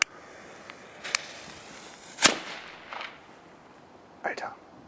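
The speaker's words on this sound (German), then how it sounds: "Comet Packet Cracker." Comet Paket Cracker firecrackers go off one after another as four or five sharp, separate bangs and cracks at moderate distance, with a faint voice in the background.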